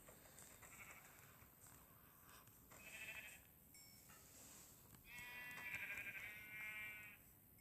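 Two Minecraft sheep bleat in the game, a shorter call near the three-second mark and a longer, louder harmonic bleat later, over a steady background hiss with no talking.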